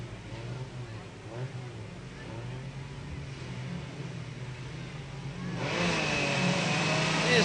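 Stock car engines rumble and rev on the grid at Newcastle Motordrome, a steady mid-pitched drone that swells louder near the end as the race start approaches.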